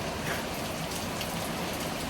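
Steady rain falls outdoors in 50-degree Fahrenheit weather, a dense even hiss that runs unbroken from start to finish with no voices over it.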